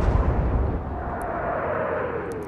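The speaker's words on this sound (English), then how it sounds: "And explosions are happening." Rumbling explosions and booming impacts from a naval battle in the Atlantic Fleet video game, a dense, loud low-end roar that persists throughout with a faint rising whistle-like tone midway.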